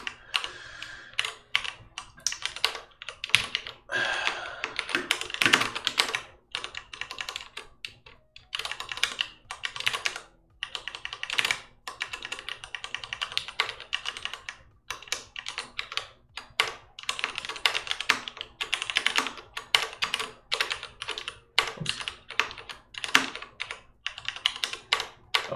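Rapid bursts of typing on a computer keyboard during a livestreamed coding session, with clustered key clatter broken by short pauses, close and fairly loud, no talking.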